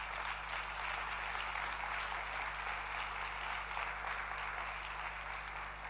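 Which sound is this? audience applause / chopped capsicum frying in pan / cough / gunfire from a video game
audience applause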